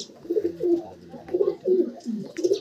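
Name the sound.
racing pigeons cooing in loft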